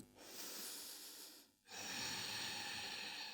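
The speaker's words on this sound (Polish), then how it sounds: "Kolejny wdech." A slow, deep inhalation during a morning yoga routine, a soft airy breath through the nose, close and alone, with a brief pause before a second, stronger intake of breath.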